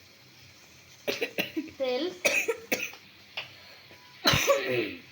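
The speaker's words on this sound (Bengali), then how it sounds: "ক্যামেরাম্যানের কাশি উঠছে" A camera operator coughs in a quick series of close, harsh bursts, then gives a louder cough near the end, in a kitchen while cooking is underway and a voice briefly speaks.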